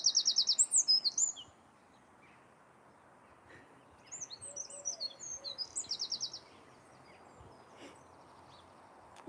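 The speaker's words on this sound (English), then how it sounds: "Where's Jenny Wren singing?" A wren sings in a garden in two bright, rapid trilling bursts with quieter twittering in between, set against soft outdoor background hiss.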